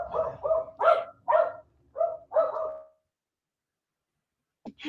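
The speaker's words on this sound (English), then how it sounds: "My dog's got a little excited about something going on outside." An excited dog barks six times in quick, uneven bursts, loud and close indoors, then goes quiet before a brief last sound.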